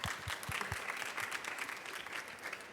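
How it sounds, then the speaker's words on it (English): Applause from an audience at a talk on technology and human creativity, a steady wash of many hands clapping at moderate distance throughout, fairly soft overall. "A round of applause for everybody."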